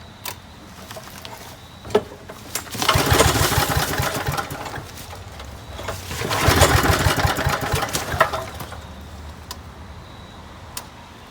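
A Parker-35 vacuum's small engine, primed with starter fluid, sputters to life in two rough bursts of a few seconds each, with sharp clicks and knocks around them.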